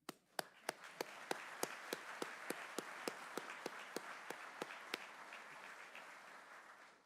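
Crowd applause at a military promotion ceremony for a brigadier general: a steady wash of clapping with a few sharp, evenly spaced near claps punctuating it, slowly thinning toward the end.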